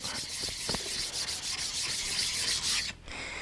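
Steel blade rubbed quickly on a very fine 16,000-grit sharpening stone, a steady close-up scraping swish with short rhythmic strokes, stopping briefly near the end.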